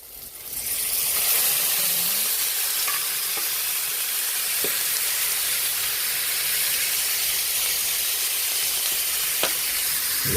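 Chicken pieces fry in a pan with a steady, loud sizzle and hiss that starts just after the first second and holds for about ten seconds, broken by a few faint clicks of stirring.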